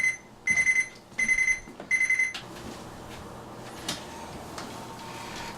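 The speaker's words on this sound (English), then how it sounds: "Oh, there's the timer." An oven timer beeps in four rapid bursts of shrill tones while pizza bakes, close and loud, then stops and leaves quiet kitchen background.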